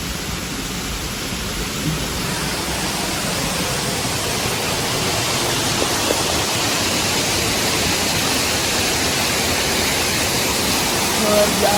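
Newly formed waterfall after heavy rain near Manuguru, its water pouring and rushing in a dense, steady roar that stays loud and unbroken throughout, with a voice faintly audible under it.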